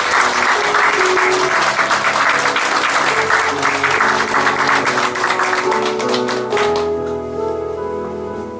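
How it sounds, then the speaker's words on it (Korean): Church congregation applauding as a blessing for newly baptized members at a Christmas service, sustained loud clapping from many hands that tapers off near the end as a low organ or keyboard tone remains. "축복의 박수 하도록 하겠습니다"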